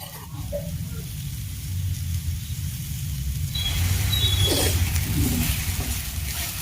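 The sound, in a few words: grated coconut frying in a pan with sugarcane jaggery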